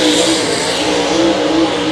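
A late model race car runs on the track at Davenport during MLRA qualifying, its loud engine droning steadily at high revs, sustained and close throughout.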